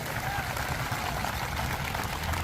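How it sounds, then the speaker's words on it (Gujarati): An audience at a Gujarati folk music performance applauds with dense, steady clapping that stays full and even throughout. "તાળીઓ તો મારા નામની નહીં આના નામની વધાવો છે"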